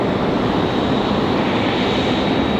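A JetBlue airplane passes at Raleigh Durham airport as a steady, dense roar of jet noise, loud and constant throughout with no voices.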